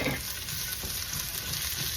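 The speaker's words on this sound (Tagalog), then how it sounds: "So, now we add the ginger and onion together." Ginger and onion stir-frying in a pan with garlic, a steady close sizzle with faint stirring scrapes running continuously throughout, no voices.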